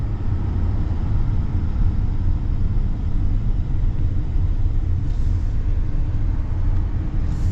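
A 2025 Chevy Silverado 3500 High Country pickup truck on the move produces a loud, continuous low road rumble and engine drone inside the cab, steady throughout with no voices.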